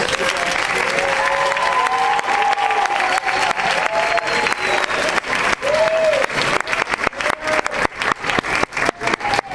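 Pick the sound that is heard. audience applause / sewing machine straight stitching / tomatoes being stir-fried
audience applause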